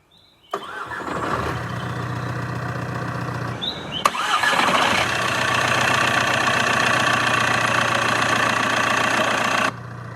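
A flood-damaged Jaguar F-Type SVR cranks briefly, stalls with a short pause, then catches on a second crank and settles into a loud, steady, rumbling idle that runs on before cutting off abruptly near the end.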